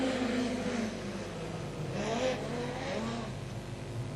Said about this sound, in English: Watch for a green one as they roll quietly up the main straightaway